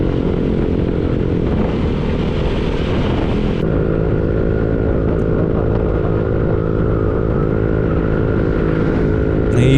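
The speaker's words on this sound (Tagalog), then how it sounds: "Apat na motor na kami ngayon guys" A group of four motorcycles riding together, a loud continuous engine drone close by with rising and falling revs as the bikes cruise along.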